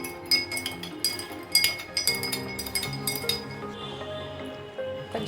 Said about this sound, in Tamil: சுகர் மிக்ஸ் பண்ணிக்கலாம்.